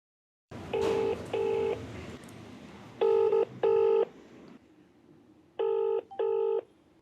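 A telephone call is placed, then rings. Paired electronic tone bursts repeat in a steady rhythm: two beeps, a pause, two more, then a final pair, clear and close with no talking.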